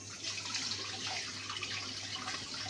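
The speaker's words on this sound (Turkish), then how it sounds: "Elimi yıkayayım." Water running from a kitchen tap while hands are washed after cleaning fish, a steady broadband splashing stream that stays close and continuous throughout, with no talking.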